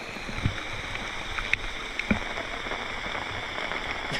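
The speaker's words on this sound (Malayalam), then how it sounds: "തിരിച്ചു പോകുന്ന നേരത്തെ അപ്രതീക്ഷിതമായിട്ട് മഴ പെയ്തു. കണ്ടോ? ഫുള്ള് മഴ." Heavy rain pours steadily in a continuous broadband wash, with a few sharper drops or knocks standing out briefly, moderately loud throughout.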